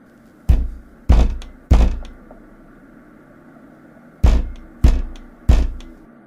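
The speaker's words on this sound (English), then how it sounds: "Enraged, he thumps his fist on the door 3 times." Three heavy fist thumps land on a front door in quick succession, a short pause follows, then another three thumps come, each booming and close against a faint steady hum.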